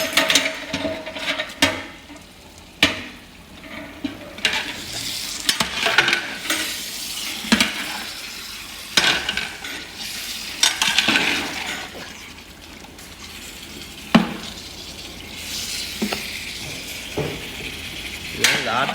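Goat meat fat sizzles and fries in a pan, with repeated sharp scraping stirs of a utensil against the metal over a steady crackle, close and moderately loud throughout.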